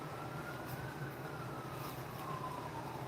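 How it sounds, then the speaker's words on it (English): Fire truck or ambulance siren passing outside, a faint distant wailing tone sweeping slowly up and down beneath a steady background hum, with no talk. "Ambulance or fire truck, can't even tell anymore."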